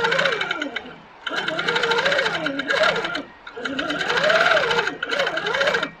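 Sitdown longarm quilting machine stitching at 11 stitches per inch, a fast, steady mechanical whir and clatter in two runs of a few seconds each, separated by brief pauses, close and clear.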